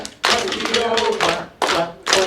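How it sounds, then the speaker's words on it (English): An audience at a library sing-along claps hands three times in a row during the Bingo song, sharp loud claps in quick groups with short pauses between. "3 claps this time, here we go."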